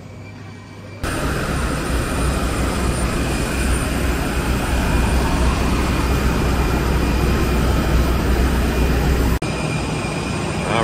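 Passenger jet engines roar steadily on the tarmac at Zagreb Airport while the plane lines up for takeoff to Split, a loud continuous broadband rumble with a whining tone that starts abruptly and cuts out near the end.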